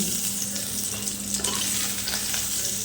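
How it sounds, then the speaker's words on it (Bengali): Pieces of pointed gourd (potol) fry in hot oil in a pan, giving a steady, close, even sizzle that runs throughout with no voices. "যে পটল আমি ভাজতে দিয়েছিলাম সেই পটলগুলোও কিন্তু খুব ভালো করে ভাজা হয়ে গেছে"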